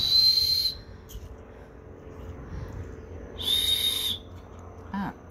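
A small whistle is blown twice, loud, close, shrill tones, each held just under a second with a gap between, then a faint short rustle.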